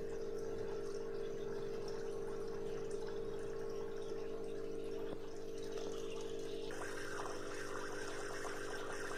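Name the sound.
draining water from a tarpaulin catfish pond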